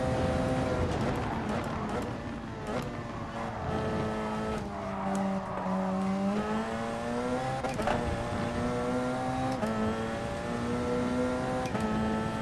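Race car engine accelerating in the GT Sport video game, a steady harmonic engine whine rising and dipping through gear changes across the whole stretch, with someone talking over it at times.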